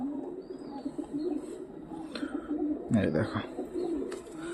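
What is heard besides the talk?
pigeons cooing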